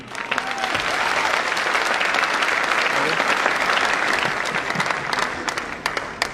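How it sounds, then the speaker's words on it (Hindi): Audience applause at an AWPL motivational event: dense, steady clapping from a large crowd fills the whole stretch at an even loudness with no speech over it. "आपकी तालियां मिले तो"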